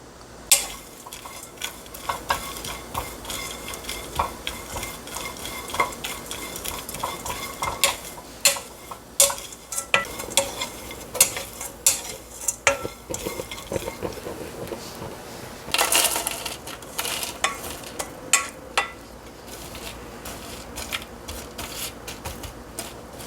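Sliced almonds, about 100 g, dry-roasted over low heat in a pan, giving a steady run of light scraping and tapping as a spatula stirs them, with clustered clicks against the pan throughout and no talking.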